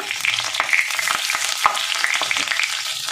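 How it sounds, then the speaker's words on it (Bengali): Chopped garlic and ginger sizzle loudly in hot oil in a pan, a steady close frying hiss with a few scraping stirs running throughout. "দেখুন 2 চামচ রসুন কুচি দিয়ে দিলাম। একটু নেড়ে নেব।"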